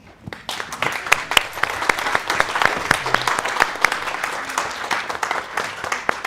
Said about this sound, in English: You can keep applauding.